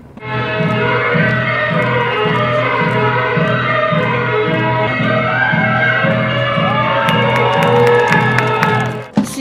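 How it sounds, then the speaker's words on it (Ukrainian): A crowd of spectators shouts, whoops and cheers steadily through an evening fire show with choreography and acting, loud and close, with a musical tone running underneath and a few claps near the end. "Тільки оце кричиш, аплодуєш і все."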